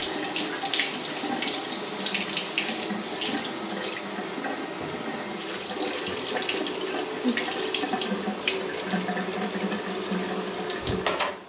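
Apples are rinsed under a running kitchen tap, a steady close stream of splashing water with small clatters and shifts as the fruit is handled, continuous throughout with no voices.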